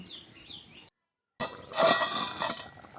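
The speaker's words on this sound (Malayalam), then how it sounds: "ഇനി ഇതൊന്ന് മൂടി വെച്ച് നന്നായി വേവിച്ചെടുക്കാം" A metal lid clinks and rattles onto a pot of Kerala fish curry made with green peppercorns: a short near clatter after a brief silence, with a few lighter taps trailing off.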